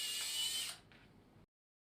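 A 2.5 mm surgical drill bit, held at 90 degrees, opens the femur cortex with a brief, bright, high-pitched whir that drops into a softer hum and stops abruptly, followed by silence; close up, with no voices.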